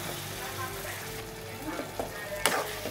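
Crushed garlic and spices fry in hot oil in a home kitchen pan, a steady close sizzle with occasional stirring scrapes and clinks, no speech.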